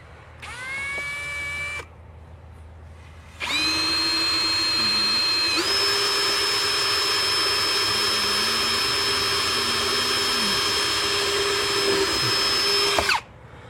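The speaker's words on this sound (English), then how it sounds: "Okay, we got our first hole drilled." A power drill bores a hole near the top of a window frame: a brief whirring burst, a pause, then one long sustained run that steps up in pitch partway through before cutting off abruptly. Loud, close and without speech.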